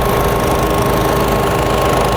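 Concrete power trowel machine running with a floating pan on a slab for a barndominium in Texas, a loud steady motor drone with a rapid rattling chatter, close and continuous.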